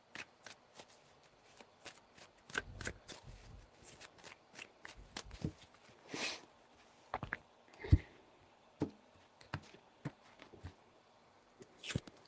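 Tarot cards being shuffled by hand in several bursts, crisp riffling and soft slaps with short pauses between, close and fairly quiet, with no talking over them.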